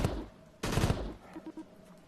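Gunfire from a burst-fire weapon mode in the VR game Crashland VR, a loud rapid cluster of shots near the start and another mid-clip, followed by a few quieter short pops.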